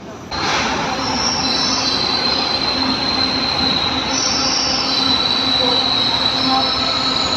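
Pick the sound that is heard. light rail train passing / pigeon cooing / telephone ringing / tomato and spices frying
light rail train passing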